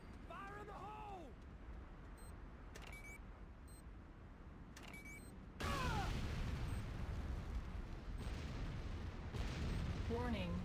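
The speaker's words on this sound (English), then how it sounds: "C4 is set. Fire in the hole!" C4 explosion in the video game Renegade, a sudden loud blast that gives way to sustained rumbling noise, preceded by quieter game sounds and spoken voices.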